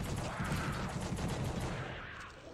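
Sustained barrage of gunfire from a PS2 horror shooter, The Suffering, aimed at a big monster, rattling densely and loudly for a couple of seconds before tapering off, with no talking over it.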